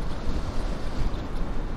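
Wind blasts across the microphone outdoors during a mountain bike ride, a dense, loud low-frequency roar that surges in short irregular gusts.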